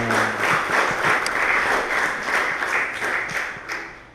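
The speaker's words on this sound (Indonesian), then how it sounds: "Tepuk tangan dulu buat narasumber." An audience at a public lecture gives the speaker a dense, steady round of applause. The clapping is continuous and fairly loud, with no talk over it, and fades slightly at the end.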